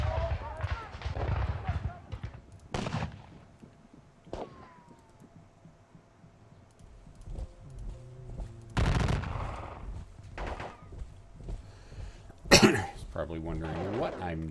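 Gunfire from a Napoleonic-era Battle of Dennewitz strategy game, with scattered shots and volleys bursting out in several loud, brief clusters over muffled battle noise, the sharpest burst near the end.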